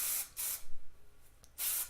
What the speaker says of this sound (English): I'll take my Kenra texture spray and I spray it while I'm kind of lifting it.